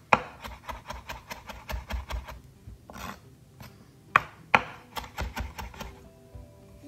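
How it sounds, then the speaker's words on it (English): A knife rock-chops fresh basil leaves on a cutting board, a fast run of close, crisp taps, a short pause, two sharp louder knocks, then another quick burst of rhythmic chopping. "So I'm doing here the rock chop."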